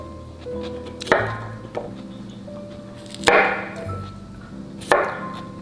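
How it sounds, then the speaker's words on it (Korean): Knife cutting through cucumber on a cutting board, three sharp separate chopping knocks spaced a couple of seconds apart, close and clear over a quiet kitchen background. "저 오이를 썰어 보도록 하겠습니다."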